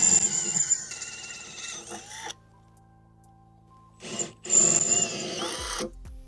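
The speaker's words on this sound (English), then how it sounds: "the drill bit doesn't start wiggling about. Actually, you know what? I'm going to go 8mm first" A power drill with an 8mm bit whirs in two bursts with a quiet pause between them, its motor pitch shifting as it works, close by and fairly loud.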